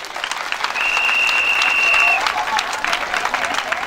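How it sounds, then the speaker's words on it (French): An audience at a tribute ceremony for a senior ambassador in Côte d'Ivoire breaks into sustained applause, a dense wash of clapping that swells and then tapers off, with a faint whistle-like tone partway through. "C'est à applaudir."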